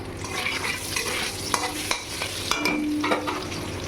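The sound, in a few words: potatoes frying in oil left from frying paneer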